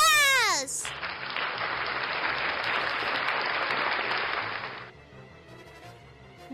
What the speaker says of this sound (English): We're gonna give you a round of applause!